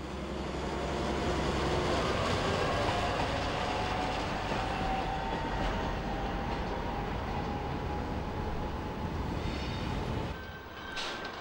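A freight train rolls steadily over the hump of the Dresden-Friedrichstadt marshalling yard, a continuous loud rumble with wheel screech and clacking that fades slightly near the end.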